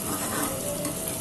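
Sliced onions sizzle and crackle steadily in hot oil in a pan for a dhaba-style mixed dal tadka, with continuous stirring scrapes running through the close, even frying noise; no one speaks.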